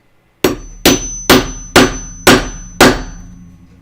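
Six loud, evenly spaced hammer whacks, each ringing briefly, as a snap fastener is set into sewn overalls, heard close and alone without talk.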